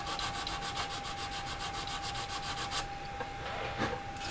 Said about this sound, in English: we're just going to sand with quite a coarse one to start with.